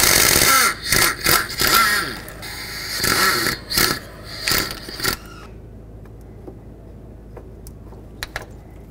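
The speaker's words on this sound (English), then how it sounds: "I'm going to loosen up the two bolts for it. They are 10 millimeter bolts." A wrench ratchets loose the two 10 mm timing chain tensioner bolts on a 1997-2003 Ford F-150 5.4L 2-valve engine. Dense, loud metallic clicking and scraping runs for several seconds, then stops, leaving near silence with a couple of faint ticks.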